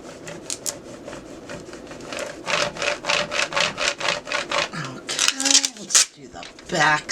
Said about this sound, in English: let's go ahead and burnish this down